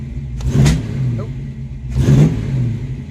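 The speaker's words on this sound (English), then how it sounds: "Backfiring." Carbureted car engine being tuned, revving in two short bursts with sharp popping backfires over a steady rough idle, close and loud.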